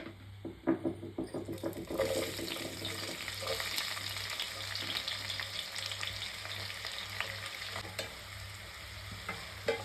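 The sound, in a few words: onions frying in hot home-made ghee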